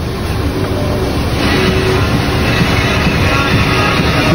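A Fuso tractor head truck's diesel engine idles just after starting, a loud, steady low rumble with a constant drone throughout.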